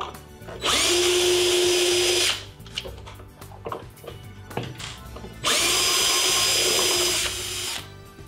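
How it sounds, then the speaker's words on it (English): A power drill backs Phillips head screws out of the battery box on a Go-Go Elite Traveller mobility scooter in two loud, sustained whirring bursts of about one and a half seconds each, with softer handling clicks between them. "we'll be removing the 8 Phillips head screws from the outside of the box from underneath"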